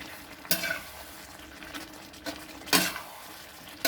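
Pork being stir-fried with red curry paste and long beans, a few spatula scrapes and knocks against the pan over a soft low sizzle, close and fairly quiet, with no talking.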